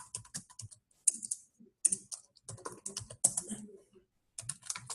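Keystrokes on a computer keyboard come in quick, uneven bursts with short pauses, close and fairly clear, as someone types out an if-statement condition in a notepad editor.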